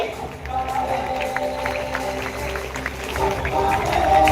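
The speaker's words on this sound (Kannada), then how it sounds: "ಅವರ ಸಾಧನೆಗೆ ನಮ್ಮ ಹೆಮ್ಮೆಯ ಚಪ್ಪಾಳೆಗಳನ್ನು" An audience at a temple fair award ceremony applauds a woman receiving an award, with steady crowd clapping and murmuring filling the whole stretch and swelling slightly toward the end.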